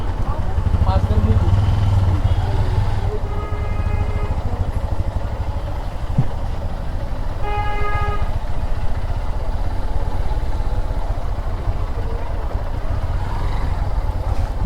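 A motorcycle engine idling nearby, a low steady throbbing rumble throughout, with a person talking over it and a few faint beeps in the background.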